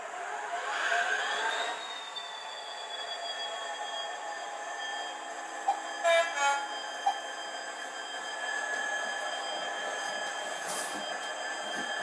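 A model Freightliner train with a sound decoder runs around a layout, giving a steady mechanical hum with a long whining tone and a few brief clicks and squeals partway through, with no talking.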